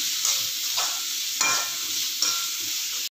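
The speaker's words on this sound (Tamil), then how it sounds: "நல்லா கொஞ்சம் வதக்கிக்கோங்க. வெங்காயம் நல்லா கொஞ்சம் வதங்கட்டும்." Chopped onions sautéing in a hot pan, loud continuous sizzling with a few rhythmic stirring strokes scraping through it before it cuts off abruptly.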